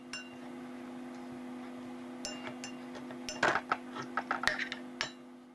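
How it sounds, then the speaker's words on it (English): Dry cooked potatoes mashed in a pan for Irish potato farls, the masher clinking and knocking against the metal, starting quietly and then a run of sharp, irregular clinks in the second half. "thoroughly mash the potatoes"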